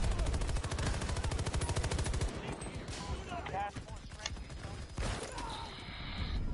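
Rapid automatic gunfire from a video game weapon rattles loudly for about two seconds, then gives way to scattered shots and game noise with a voice talking over it.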